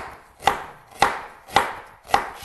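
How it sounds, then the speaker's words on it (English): Four evenly spaced knife strokes slicing through fresh unpeeled ginger on a cutting board, each a sharp close thunk roughly half a second apart, with no talking. "Now we are going to slice the ginger."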